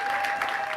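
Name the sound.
applause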